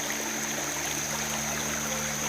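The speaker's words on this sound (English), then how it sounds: "Time to refill the water." The Poison Fork stream on the Uwharrie Trail rushes and trickles in a steady, dense wash, close by and constant as water is refilled, with no talking.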